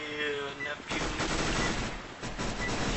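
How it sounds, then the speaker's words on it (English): Rapid automatic gunfire in CS:GO Arms Race, a dense burst of loud shots that runs through the whole moment while a player shouts excitedly over it. "Shoot the teammate, shoot him!"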